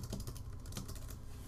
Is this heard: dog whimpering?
no